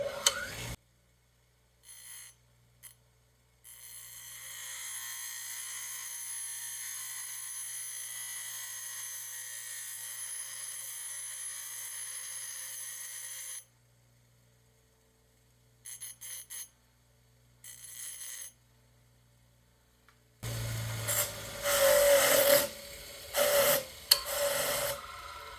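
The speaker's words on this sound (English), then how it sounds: "I can just come to the grinder" Bench grinder cutting a small groove into a part during repair of a 1970 Honda CT70 trail bike, a steady rasping whine that runs for long stretches, cuts off, returns in short bursts, then ends in louder harsh grinding.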